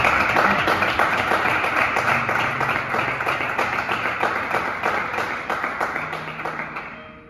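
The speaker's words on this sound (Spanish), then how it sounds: "Vamos a darle un aplauso." Applause from a Christian youth podcast's audience in Cambrils: a dense, steady patter of clapping that carries on for several seconds and gradually thins out toward the end, with faint voices in the background.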